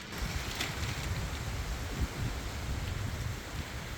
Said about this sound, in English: Man, it is a windy day here on the mountain.